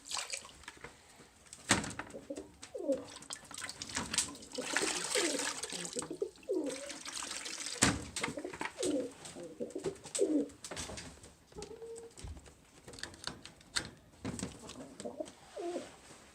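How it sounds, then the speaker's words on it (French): Pigeons cooing repeatedly in soft, rounded phrases at moderate distance during a winter outing, over a rustling, watery background with occasional clatter and no clear talk. "Les pigeons, là, ça a tout qu'un caractère."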